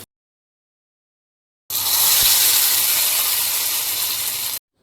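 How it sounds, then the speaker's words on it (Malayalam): Hot mustard seed tempering with curry leaves is poured into an ash gourd curry, giving a sudden loud sizzling hiss that lasts about three seconds and then stops. "കടുക് മുഴുവനായിട്ടും പൊട്ടിക്കഴിഞ്ഞാൽ ഇത് കറിയിലേക്ക് ഒഴിച്ചു കൊടുക്കാം."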